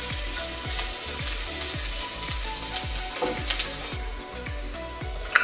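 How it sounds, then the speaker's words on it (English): Cumin seeds sizzle and fry steadily in a pot of hot oil while a spoon stirs them in a regular scraping rhythm, close and continuous with no talking. "And in with the cumin seeds. And again, give this a stir,"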